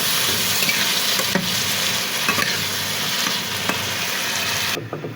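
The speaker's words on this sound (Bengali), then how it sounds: "পেঁয়াজ আর ঝাল দিয়ে দিচ্ছি, ও সিমটা দিয়ে" Onions, chili and flat beans fry in a frying pan with a steady, loud sizzle and occasional spatula scrapes and knocks, heard up close without any voices.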